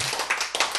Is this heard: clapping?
yes